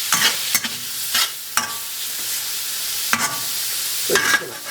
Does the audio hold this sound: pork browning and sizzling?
yes